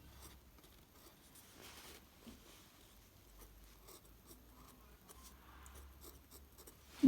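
Chinese characters are written by hand, making faint, close scratchy strokes in short bursts against a quiet background.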